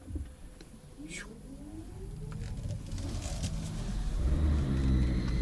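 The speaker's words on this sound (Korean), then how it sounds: "네, 출발하자마자 시동이 걸리죠." A Kia Niro pulls away with a faint rising electric whine, then its engine starts and builds into a low rumble that grows louder toward the end, with light pattering noises in the cabin and no speech.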